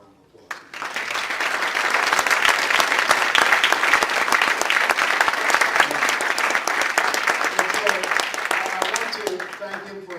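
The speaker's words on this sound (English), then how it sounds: "Let's give Mel another round of applause." A large audience applauds Mel at a Les Brown business event in Sacramento, a full, steady roar of clapping that starts abruptly and carries on for about ten seconds, close and loud.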